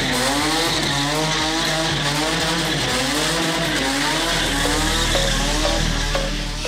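Drift cars at a Karachi motorsport event roar with revving engines and squealing, skidding tires, a loud continuous blend of rising and falling engine tones with no talk over it.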